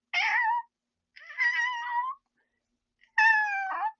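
A voice imitates a cat meowing, giving three separate drawn-out, tonal meows with short silent gaps between them, close and clear with no other sound.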